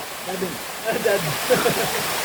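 A river splits into branches near a cave tunnel, its water rushing in a steady broadband wash, with a voice talking faintly over the flow.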